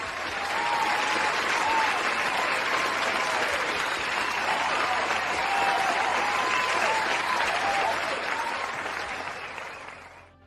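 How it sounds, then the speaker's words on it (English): A crowd claps steadily for about ten seconds, a dense, loud wash of applause that fades out at the end. "let's go ahead and throw up a round of applause real quick"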